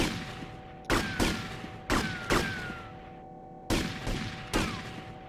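Handgun shots fired at targets in the GTA Vice City video game come as sharp, loud cracks in pairs and small clusters, about eight in five seconds, each with a brief ringing tail over a steady game hum.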